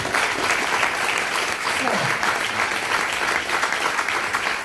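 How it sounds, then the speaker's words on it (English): A premiere audience gives a warm round of applause for an honoured guest, dense continuous clapping at steady loudness with scattered cheers and voices mixed in. "Round of applause, please."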